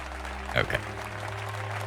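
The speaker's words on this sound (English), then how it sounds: "imagine making that speech and just getting one clap" In the video game Final Fantasy XIV, a lone clap comes after a speech, one or two short, sharp hand smacks that stand out briefly over a low ambient game hum.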